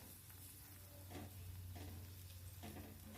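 Chilli powder and Byadgi chilli powder sizzling in oil, a soft, steady frying hiss broken by several distinct stirring scrapes, heard faintly over a low hum.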